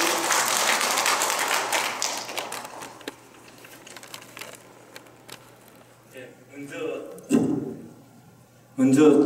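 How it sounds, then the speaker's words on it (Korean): Applause from a crowd at a Korean graduation-style commissioning ceremony, a dense clatter of clapping that is strongest at the start and then thins out, with scattered claps and a voice speaking near the end. "박수!"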